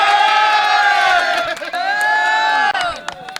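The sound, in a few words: crowd clapping and cheering at cattle market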